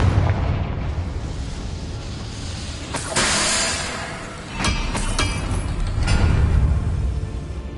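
A Confringo spell explodes in the Hogwarts Legacy video game with a few loud, rumbling booms and sharp bursts over a continuous roaring game soundscape.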